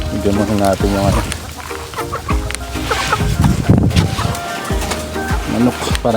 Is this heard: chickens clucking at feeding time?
yes